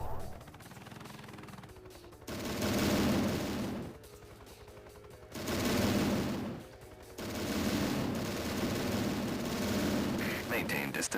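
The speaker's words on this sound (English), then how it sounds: "Switch to magnesium rounds and open fire." Heavy, sustained gunfire bursts from the Transformers Autobots DS game, loud rattling volleys that surge and drop in three long waves with brief quieter lulls between them.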